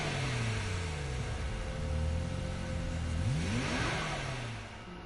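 A car engine in the racing game Gran Turismo Sport revs up and shifts through gears, its pitch repeatedly climbing and dropping, steady and close, with no talk.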